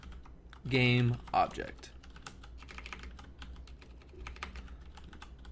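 Typing on a new computer keyboard during Unity C# coding, a steady run of quiet, quick key clicks at close range after a brief spoken remark.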